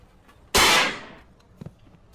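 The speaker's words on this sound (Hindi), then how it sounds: "एक छोटा बच्चा इस बूढ़े आदमी को डराने के लिए एक छोटा सा पटाखा फोड़ता है।" A small firecracker bursts once with a sharp loud crack that decays over about half a second, followed by faint small knocks in an otherwise quiet scene.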